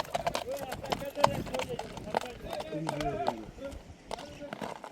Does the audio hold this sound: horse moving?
yes